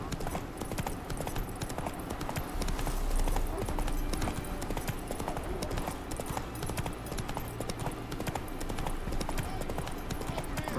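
The horse Roach trotting in the video game The Witcher 3, steady rhythmic hoof clip-clops over game ambience, with faint background talk at times.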